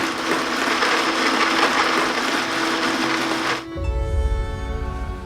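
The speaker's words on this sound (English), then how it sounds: "Activating blender." A kitchen blender runs with a loud, steady whirring roar that cuts off abruptly partway through, leaving a lower, quieter hum.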